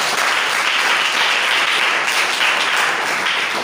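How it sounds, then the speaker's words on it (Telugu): A church congregation claps together in praise to God, a dense, continuous wash of many hands clapping at steady loudness with no speech over it. "చప్పట్లు కొట్టి దేవుని స్తుతిస్తాం"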